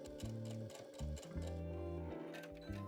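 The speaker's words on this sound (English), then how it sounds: "go ahead and edge stitch the top of the pleats down to hold them in place" A domestic sewing machine runs in short bursts, edge stitching down fabric pleats on trousers, its motor whirring steadily with brief pauses between runs, close and fairly quiet.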